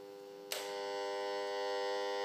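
A microwave receiver probe outputs a steady electronic tone with a buzzing harmonic hum, switched on with a sharp click and then holding constant and fairly loud to the end.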